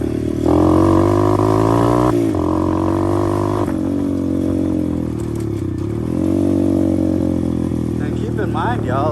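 A 125cc pit bike engine runs close by in a back yard, droning and rising in pitch as it revs up and eases off in waves, with a person talking over it.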